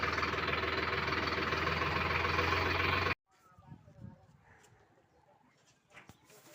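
A Sonalika DI 50 tractor engine idles loudly and steadily with a low rumbling knock, then cuts off abruptly, leaving quieter outdoor noise and faint scattered sounds.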